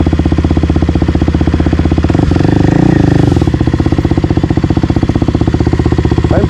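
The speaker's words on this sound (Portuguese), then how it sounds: "Liga a moto." A Kawasaki KLX 300R or XR250 Tornado 293cc trail motorcycle engine runs loud and close in a steady fast-pulsing putter, with a brief revving swell in the middle before settling back to a rough idle.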